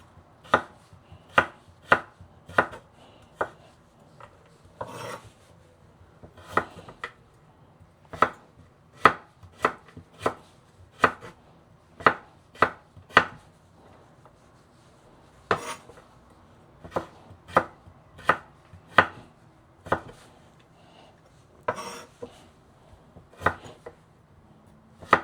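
Vegetables for a white bean and spinach dish chopped on a board with a knife, sharp repeated knocks in quick irregular runs with short pauses, close and clear, no speech.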